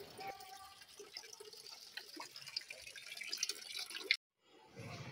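Water poured or sprinkled onto garden plants in the morning, a steady splashing trickle with scattered drips running for about four seconds before cutting off abruptly.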